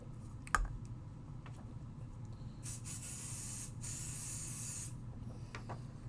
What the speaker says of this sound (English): hit this with a little bit of pixie spray.